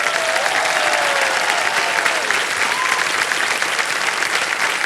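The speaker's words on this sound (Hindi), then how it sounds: "इतनी जोर से जनता ने ताली बजाई।" A studio audience on a televised quiz show applauds loudly and continuously, a dense, close wash of clapping, with a voice faintly audible over it.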